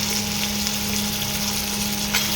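Chopped capsicum goes into a pan of reddish, frying onions for soya chilli, producing a continuous close sizzle with a faint constant hum beneath and no voices.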